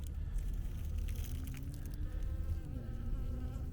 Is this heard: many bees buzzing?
yes